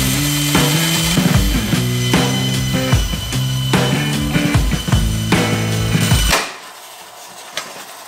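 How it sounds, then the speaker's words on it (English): A bandsaw cuts through a titanium jet engine turbine blade, giving a loud, steady grinding whine with rhythmic pulsing for about six seconds, then stopping suddenly and leaving a quiet hum and a faint click. "It got my bandsaw up and running again."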